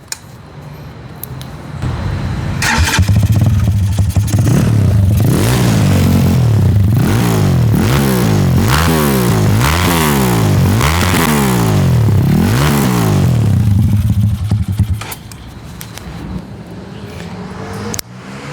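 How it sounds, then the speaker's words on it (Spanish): CG300 motorcycle with a 34mm carburetor and M5 Pro exhaust starts up and is revved repeatedly, its loud engine rising and falling in a steady series of throttle blips before settling back to idle, close by with no talk. "vamos a encenderlo el motor y darle una aceleradita a ver cómo suena"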